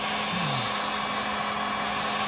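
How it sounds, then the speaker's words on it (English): A heat gun warming the engine case of a Stihl 046 chainsaw, a steady loud broadband blowing hiss with a constant motor hum, continuous and close with no speech. "heat gun, and I just start heating. Start heating the case, something like that."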